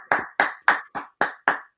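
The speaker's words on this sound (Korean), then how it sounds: "박수 한번 주시죠" A few people clap in a slow, even rhythm, six distinct claps spaced about a quarter second apart, close and crisp with silence between them.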